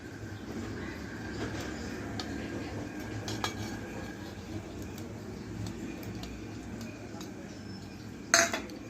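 Paneer cubes being mixed into a spice batter in a bowl, with soft, continuous scraping and clinking of a utensil against the dish and one sharper clink near the end.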